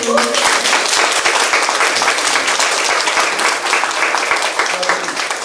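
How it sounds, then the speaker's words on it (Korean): Loud, dense audience applause at a live political talk event, continuous clapping from a crowd throughout, close and full, with only faint voice traces under it. "박수."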